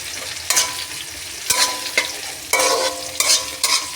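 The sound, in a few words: onions frying and being stirred in pan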